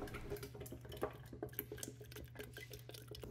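Spoon stirring a container of apple cider set to ferment, with irregular scraping and light clinking strokes over a steady low hum, fairly close and moderately quiet.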